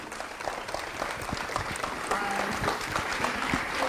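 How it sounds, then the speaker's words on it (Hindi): A crowd applauds steadily throughout, a dense wash of clapping hands. "तालियां"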